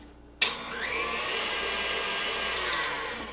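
Electric mixer whisk starts abruptly and whirs steadily while whipping cream in a bowl, a close, even motor drone lasting a few seconds.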